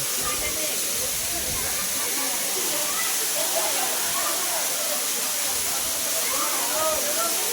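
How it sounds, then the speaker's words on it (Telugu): Katiki waterfall in Araku, India roars as a steady broadband rush of falling water, loud and constant, with faint voices underneath. "water falls"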